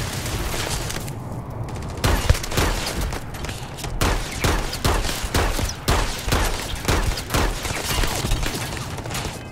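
A dense, rapid firefight with pirates in the Starfield video game, layered gunshots and bursts packed closely together at steady loudness throughout.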